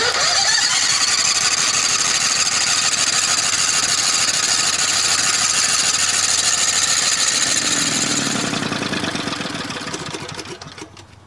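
An old scrap lawnmower engine fed on biogas runs with a loud, strained whine and buzzing rattle, then sputters and winds down into silence near the end.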